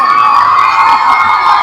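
A packed crowd at a palkhi procession in Turbhe, Navi Mumbai, cheers and shouts loudly with children's voices mixed in, a continuous close, dense roar.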